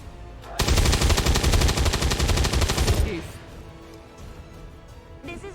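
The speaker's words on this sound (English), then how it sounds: "I like the bullpup. I like how it sounds." Rapid automatic fire from a bullpup rifle in a co-op shooter video game, a loud sustained burst of about two and a half seconds that cuts off abruptly and leaves quieter game ambience and a few faint distant shots.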